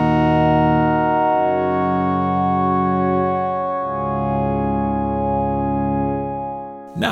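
A huge synthesizer pad with one layer soloed and its Harmonia extra oscillators switched off holds a rich, buzzy sustained chord, shifting to new notes twice, loud and steady with no voices.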